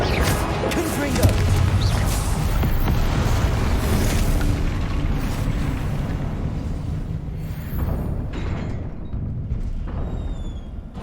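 Blasting explosions from the Confringo spell in Hogwarts Legacy rumble in heavy bursts over a dense, chaotic combat din, with a voice talking now and then.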